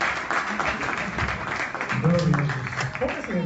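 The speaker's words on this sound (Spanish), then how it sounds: "Con un aplauso a Dios bendito." A church congregation applauding during a service, steady clapping under and alongside voices throughout.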